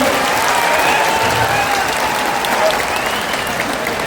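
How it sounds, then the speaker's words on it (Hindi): A large crowd at a political rally in Bihar claps loudly to welcome Prashant Kishor, a thick, continuous wash of applause holding strong the whole time, with scattered voices mixed into the clapping. "जनाब प्रशांत किशोर जी का जोरदार तालियों के साथ स्वागत है।"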